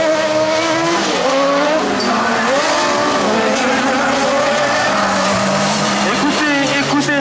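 Super buggy race cars roar past at the Fenioux 2021 final, engines screaming loud and continuous with rising and falling revs and tire squeal, under a commentator's voice.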